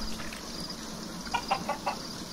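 Chickens in a video game cluck in a quick run of short, clipped calls over a steady background hum, moderately loud and free of talk.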